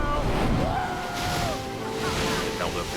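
Ocean breakers wash and roar with wind noise around a small boat made of duct tape at sea, a continuous rushing surf with faint voices and whoops mixed in.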